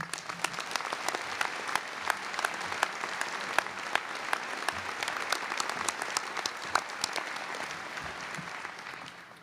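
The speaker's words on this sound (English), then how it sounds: "Let's give him a big round of applause." An audience at the Iowa State University College of Veterinary Medicine graduation ceremony applauds a speaker with steady, even clapping that fills the hall for nearly ten seconds and tapers slightly at the end.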